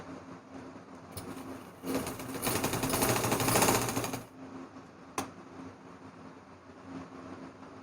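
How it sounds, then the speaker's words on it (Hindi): A sewing machine runs in a dense rapid burst for about two and a half seconds while stitching the shoulder seams of a baby frock, loud and close against a quiet room, with a short mechanical click afterward. "दोनों शोल्डर्स को एक दूसरे के ऊपर रखकर इस तरह से हम सिलाई लगा लेंगे"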